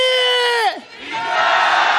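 At a candlelight protest rally, a crowd shouts a slogan together, a loud sustained chant that breaks off and rises again into a broad roar of many voices.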